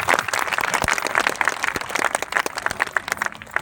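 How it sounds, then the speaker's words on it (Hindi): An audience at a Hindu gathering with poetry recitation claps in a dense, continuous patter of many hands, fairly close and even throughout. "यदि आप अनुमति दें तो एक बार आपकी तालियां मेरे तक आ जाए।"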